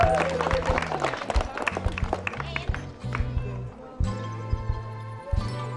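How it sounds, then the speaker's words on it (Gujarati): Audience on a Gujarati TV game show, Daily Bonus, breaking into a dense patter of applause over a rhythmic music bed, with the clapping loudest at the start and then fading. "હા હા, પાડી દો એકવાર તાળીઓ એમના માટે."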